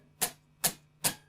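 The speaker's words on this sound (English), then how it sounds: "he mutes the string with his right hand and then plays the notes like this" Three short, dry, percussive clicks of muted guitar strings land at an even pace, each a quick muted snap with a brief decay and no talking.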